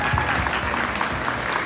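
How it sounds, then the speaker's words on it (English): Dense, loud crowd applause for a Taiko drum performance at a Bon Dance Japanese culture festival in Greenville, SC, a continuous clapping roar from a close audience. "One more round of applause for the Taiko drum."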